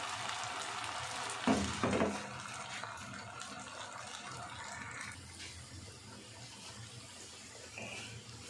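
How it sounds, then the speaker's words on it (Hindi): Sweet finger chips dropped piece by piece into hot ghee, giving a soft continuous frying hiss and bubbling with a brief louder splash early on, fairly quiet and without talk. "घी हमारा यहाँ पे गर्म हो चुका है, तो एक एक पीस करके डालेंगे"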